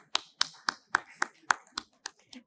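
A small audience claps for a speaker after a technical talk at an Informa Markets event. About nine crisp, evenly spaced claps sound close and distinct rather than merging into a dense roar, with no talking.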